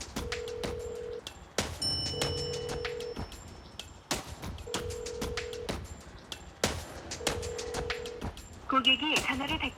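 A phone is dialed, its keypad tones sounding in short repeated bursts, and the steady purr of a ringback tone repeats between them. A chirpy tone is heard near the end, and people talk over parts of it.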